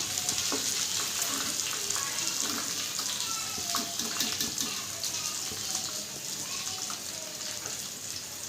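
Kanavai (squid) vada fry in hot oil with a continuous bright sizzle and bubbling, loudest at the start and gently easing off, with faint background voices.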